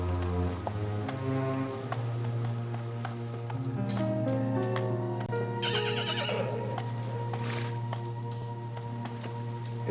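An exhausted horse neighs in long, quavering whinnies over a steady low drone, with hooves clopping in sharp irregular knocks and a brief clinking burst midway, fairly close and clear.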